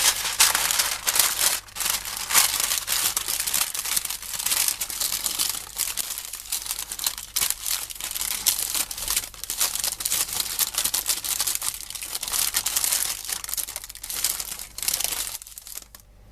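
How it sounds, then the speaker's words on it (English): Baking paper is crumpled and crinkled up close for a tart pastry lining, a continuous dense rustle of sharp crackles that runs throughout with no talk. "Now I'm going to add paper and weight."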